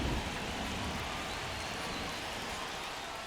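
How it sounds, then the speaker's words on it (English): Steady pouring rain falling over a baseball game in MLB The Show 25, a dense, even wash of noise that stays constant and fairly soft throughout. "Pouring down rain."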